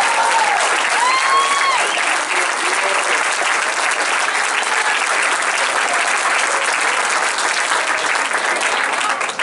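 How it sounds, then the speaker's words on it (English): An audience gives loud, sustained applause for a U15 development team at a Team USA announcement event. The clapping is dense and continuous, with a few faint whoops mixed in. "Please give them a round of applause."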